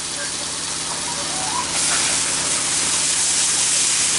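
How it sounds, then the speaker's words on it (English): Beef, cauliflower and broccoli sizzle in a hot wok, giving a steady, close hiss that swells a little louder partway through and carries on without a break. "Hear that sizzle?"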